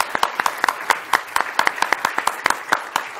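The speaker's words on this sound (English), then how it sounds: "one more round of applause for Emily." A conference audience at a robotics and law panel applauds, a steady round of sharp, close individual claps repeating quickly with a lighter wash of clapping behind.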